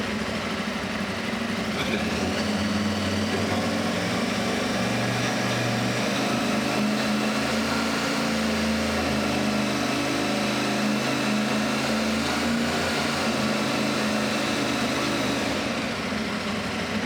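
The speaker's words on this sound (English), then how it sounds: "Happens if I blip the throttle." A motorcycle engine idles steadily with a low, continuous rumble, rising slightly in a few throttle blips, heard close and alone.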